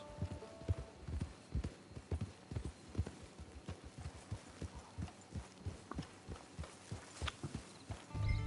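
A horse's hooves clip-clop at a steady walking rhythm on firm ground toward a camp, close and distinct, each step a crisp knock, with a louder thump near the end.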